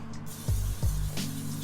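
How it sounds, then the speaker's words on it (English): Cooking spray squirted inside an air fryer basket, two short hissing bursts close together followed by a fainter third puff, over a steady low appliance hum with no talking. "Spray the inside of it."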